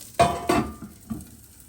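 Broccoli cooking under a lid in a pan, a few soft bursts of clattering and stirring noise over a quiet steady hiss.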